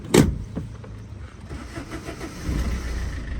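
A car engine is cranked with the self starter in a short burst, then settles into a low, steady running rumble close by, with nobody speaking.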